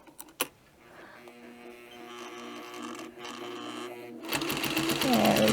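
A sewing machine stitches a fabric placemat, its motor whirring steadily and close, then speeding up into a louder, faster run of stitches near the end.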